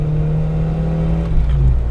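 Small engine of a Japanese mini truck droning steadily up close, then revving harder near the end just before a gear change.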